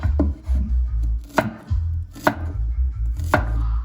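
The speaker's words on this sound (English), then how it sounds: "I'm cutting 2 stalk scallion for my rice" A knife chops scallion stalks on a cutting board, four or five distinct, fairly loud thunks spaced unevenly over a low background hum, with no talking.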